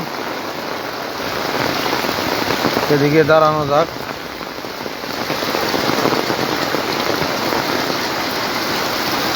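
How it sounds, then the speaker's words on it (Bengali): Heavy rain pours steadily in Vizag as a dense, loud hiss throughout; a voice speaks briefly partway through. "হঠাৎ করে বৃষ্টি বেড়ে গেল"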